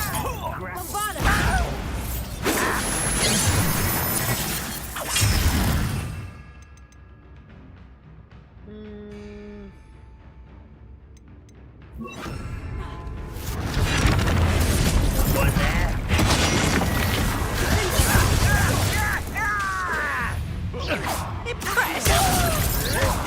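Bombarda spell blasts in a video game come as heavy booming explosions with crashing debris, loud and dense, with a quieter lull midway before the rumbling resumes.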